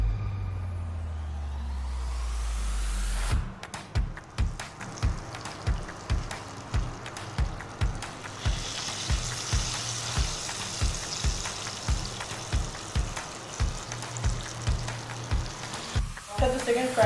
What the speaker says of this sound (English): after the first fry we are going to do the second fry it